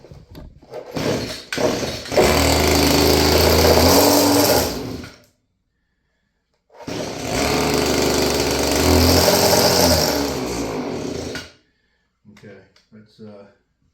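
A vintage Stihl FS56 curved-shaft string trimmer engine with a gummed carburetor and sticking throttle cable runs in two loud, buzzing bursts of several seconds each, separated by silence, followed by a few brief sputters.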